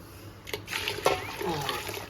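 Water pours and splashes into a pot of chicken mandi in a short, uneven stream while someone talks over it, the splashing faint and close.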